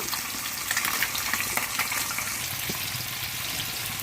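Fish pieces fry in a pan, making a dense, steady sizzle with a watery, bubbling quality at fairly close range and no speech.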